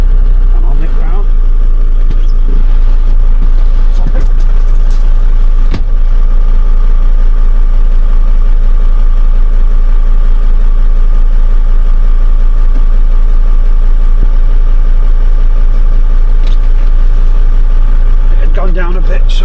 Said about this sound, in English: Nice engine this one, it really is.